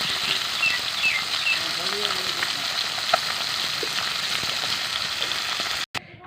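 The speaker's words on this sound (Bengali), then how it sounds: "দিয়ে দিচ্ছি কড়াইতে সরিষার তেল, ফোড়ন দিয়ে দিচ্ছি জিরা অল্প কয়টা" Cumin seeds tempering in hot mustard oil in a wok, a steady close crackling sizzle with faint pops and a brief utensil knock near the end.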